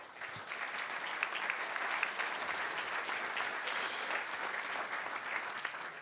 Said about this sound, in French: Si vous voulez bien applaudir nos 3 intervenants